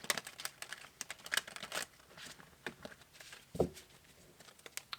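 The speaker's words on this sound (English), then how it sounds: "one more good shuffle and then we'll cut it" Tarot cards being shuffled by hand, soft crinkling riffles and flicks in short bursts, close and quiet, with a brief thump near the end.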